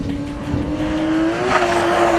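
A 1989 Nissan 240SX drift car takes a turn, its engine holding a loud, steady high whine that rises slightly mid-corner, with rumbling road and tire noise, close and continuous.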